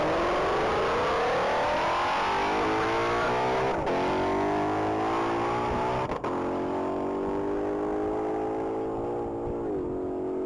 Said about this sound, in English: That's going to be a 2022 Ford Shelby GT 500